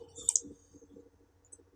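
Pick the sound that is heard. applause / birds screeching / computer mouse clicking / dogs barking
computer mouse clicking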